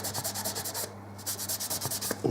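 Close, steady back-and-forth rubbing of 1200-grit wet or dry abrasive paper on the frets of an archtop mandolin fretboard, quick repeated strokes with one short pause partway through.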